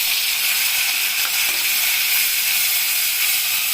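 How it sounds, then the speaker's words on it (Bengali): Bitter gourd fries in hot oil with black cumin and slit green chilli, giving a loud, continuous close-up sizzle that holds steady throughout. "সবার প্রথম করলাটাকেই দেব।"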